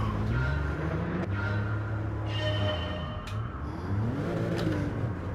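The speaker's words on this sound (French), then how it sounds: "Je la mets en, un petit peu en dérive cette Porsche" A Porsche sliding sideways in Gran Turismo 7, its engine note droning and rising with a steady revving whine and tyre whir, continuous and fairly loud throughout.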